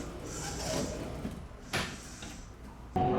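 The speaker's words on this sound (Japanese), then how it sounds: "左側右側の順にドアが閉まり" Doors of a Kintetsu train at Ise-Nakagawa station sliding shut, left side then right, with faint station ambience, a brief whoosh midway and a sharper clunk at the end.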